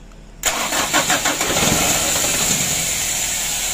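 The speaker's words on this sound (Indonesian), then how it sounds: "ini mau kita hidupkan, kita starter" Mitsubishi Canter HD 125 PS truck engine being rebuilt cranks over with a few rapid starter pulses, then fires and settles into a loud, steady running roar close by, with no talking.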